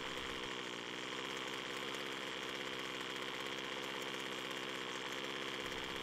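A two-stroke string trimmer engine runs roughly and sags toward a stall, a buzzing, slightly uneven mid-pitched drone heard close up and steady in level, with no talking.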